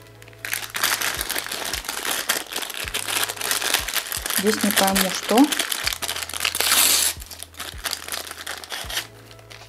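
A plastic surprise-toy packet crinkles and crackles loudly as it is opened and handled close up, in bursts over several seconds while someone speaks briefly.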